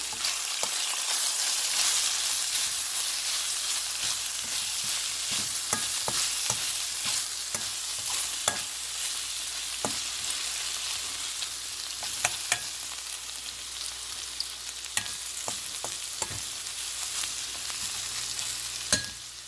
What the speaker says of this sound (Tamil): நல்லா புரட்டி விடுவோம்